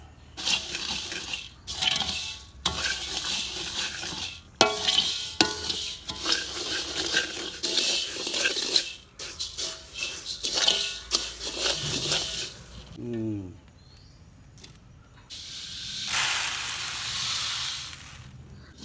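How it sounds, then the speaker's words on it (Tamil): Coriander seeds are dry roasted in a pan for homemade Jaffna curry powder, a rustling, gritty sizzle in bursts as they are stirred, with short quiet gaps and a brief watery passage late on. "தனியா வந்து நல்லா வதக்கிக்கலாம்."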